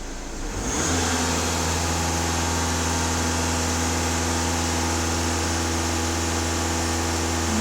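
A Volkswagen Passat B7 with a 2.0 TDI diesel engine idles steadily and close by after a brief start, with a constant low hum and mechanical clatter and no voices.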